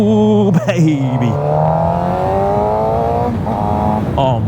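A supersport motorbike engine drones loudly and continuously while riding, its pitch rising steadily through the gears, with a voice talking over it.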